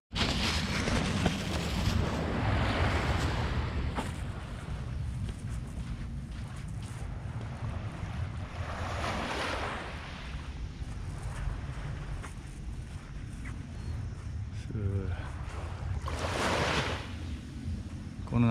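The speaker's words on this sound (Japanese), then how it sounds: "この波の音が心地よい。" Ocean waves washing ashore beside a seaside campsite in Nishi-Izu, a steady broad rush with surges swelling and receding, heavy wind buffeting the microphone throughout.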